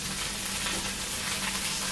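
Shallots, dried red chilies and curry leaves fry in hot oil, giving a dense, even, close-up sizzle that holds steady throughout, with no talking.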